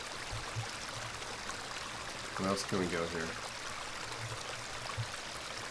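Flowing beck, a small stream in the game Excavation of Hob's Barrow, giving a steady babbling water wash throughout, while someone talks briefly over it in the middle.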